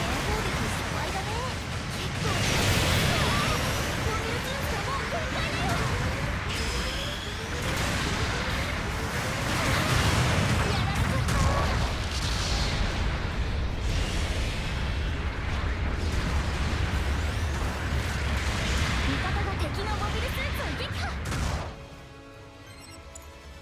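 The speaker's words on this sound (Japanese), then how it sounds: "後方部隊から支援砲撃が来るよ。" Support artillery bombardment in Gundam Battle Operation 2, a long run of rumbling explosions and impacts layered over one another, loud and sustained for around twenty seconds before dropping away to quieter game sound.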